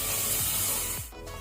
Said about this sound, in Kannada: 1 ಟೇಬಲ್ ಸ್ಪೂನ್ ಶುಂಠಿ ಬೆಳ್ಳುಳ್ಳಿ ಪೇಸ್ಟ್, ಜಿಂಜರ್ ಗಾರ್ಲಿಕ್ ಪೇಸ್ಟ್ ಹಾಕೋಣ. ಇದನ್ನು ನಾವು ಫ್ರೈ ಮಾಡ್ಕೊಳ್ಳೋ ಹಸಿ ವಾಸನೆ ಹೋಗೋ ತನಕ